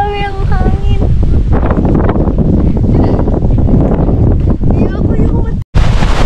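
Strong wind at Dingalan, Aurora blasts across the microphone in loud, continuous roaring gusts. A voice speaks early on and there is a brief dropout near the end.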